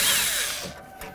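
A power drill spins out a bolt from the door of a 1988-2002 GMC Sierra 1500 pickup, a short whirring burst that winds down over about a second.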